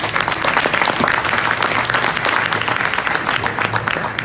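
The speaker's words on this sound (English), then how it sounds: "May I have another big applause for you?" Dense, sustained audience applause at a business congress fills the whole stretch, many hands clapping evenly and loudly with no pauses, a little crowd noise mixed in.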